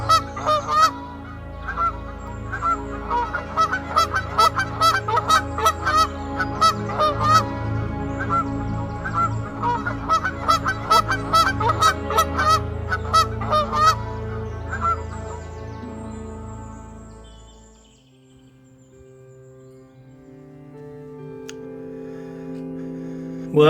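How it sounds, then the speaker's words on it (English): Recorded bird calls playing from a phone app, a steady run of loud goose-like honks and squawks that thin out and fade to near silence toward the end. "put on my bird sounds app"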